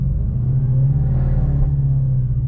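Audi S7 with a stage 1 tune and 520 bhp held at about 4,000 rpm for a launch with traction control off, a loud, steady, close engine drone with deep rumble and no talk.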